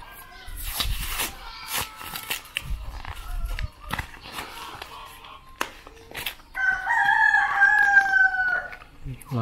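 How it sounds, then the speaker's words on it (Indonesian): A rooster crows close by, a long strained cock-a-doodle-doo rising in the second half after scattered clatter and rustling of unboxing an SD card indoors. "Maaf, ada suara ayam."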